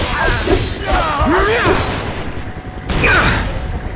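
Gunfire and a blast from a grenade ring out in the video game Final Fantasy VII Remake, a loud barrage of shots and booms layered with battle effects and shouted character voices.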